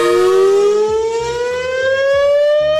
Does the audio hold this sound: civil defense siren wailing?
yes